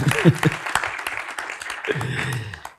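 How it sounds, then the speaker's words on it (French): Scattered, sparse claps from an audience at a film school talk come through under a speaking voice and fade out toward the end. "on peut l'applaudir"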